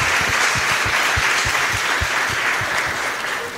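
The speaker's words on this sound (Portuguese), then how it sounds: "Aplausos pro Emanuel aqui, falando pelas costas." A studio audience on a Brazilian TV show claps steadily, with loud, evenly paced rhythmic claps standing out over a dense wash of applause that eases slightly toward the end.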